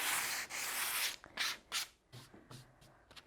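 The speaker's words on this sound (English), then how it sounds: "So then we can give all the pieces a nice sanding, get all the edges nice and smooth" Plywood pieces are hand-sanded smooth at the edges, long steady rubbing strokes giving way to shorter separate swipes, close and alone with no talking.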